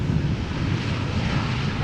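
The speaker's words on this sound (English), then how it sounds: "idle reversers by the sound of it" An airliner lands at Amsterdam Schiphol in a crosswind, with its thrust reversers at idle. It makes a steady, close, broadband roar with wind buffeting and no voices.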